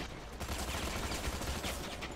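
Dense, sustained gunfire in the ZMR shooter game forms a continuous rattling roar of overlapping shots with no pauses and no voices.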